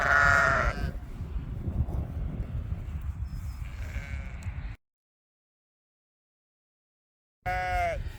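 Sheep bleat loudly and close by in a grazing field, a long bleat at the start and another after a silent gap, with a fainter one in between.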